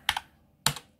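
Two crisp computer keyboard keystrokes, each a sharp click with a quick double tap, sound close up about half a second apart while a command is typed.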